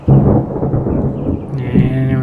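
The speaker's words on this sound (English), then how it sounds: "And we got some lightning and thundering going on." Thunder rolls during a storm, a loud, close, deep rumble that swells and lingers for a couple of seconds with no voices over it.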